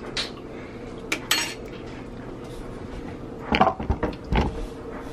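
A metal spoon clinks against a cooking pot a few times while food is tasted. The taps are short and fairly close, scattered over a steady background of kitchen noise, and no one speaks.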